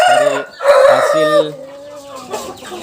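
Bangkok crossbred chickens crow and cluck close by, with loud drawn-out crowing calls followed by softer, overlapping clucks from the flock.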